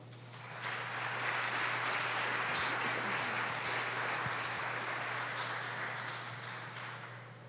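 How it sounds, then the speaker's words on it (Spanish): A congregation applauds a visiting preacher in church, with steady clapping that swells in, holds and then eases off, heard over a constant low electrical hum. "Lo recibimos con un aplauso."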